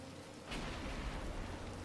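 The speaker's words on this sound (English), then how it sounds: "And it's raining indoors." Steady rain hiss falls indoors in Batman: Arkham Asylum, a dense broadband wash that swells slightly after a moment and continues evenly, with no voices.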